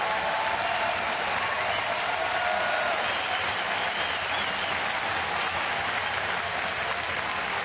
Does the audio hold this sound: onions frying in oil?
no